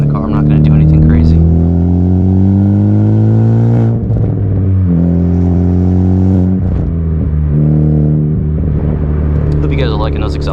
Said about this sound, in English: Hope you guys are liking those exhaust sounds.